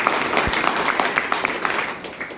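Audience applause in a Hindi-language direct selling seminar hall, a dense steady patter of many hands clapping at moderate loudness through the whole moment, with no talk over it.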